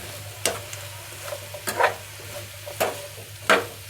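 Chow chow and carrot fry with salt in a pan, a low constant sizzle with a faint hum beneath, punctuated by four or five distinct scraping stirs of a spatula, close and with no talking.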